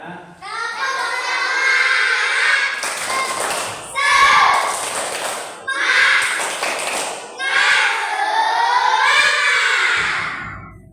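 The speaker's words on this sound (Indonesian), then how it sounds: "Silakan tepuk semangat." A class of young pupils performs a rhythmic 'tepuk semangat' chant, voices shouting in unison with claps in several loud bursts separated by short pauses.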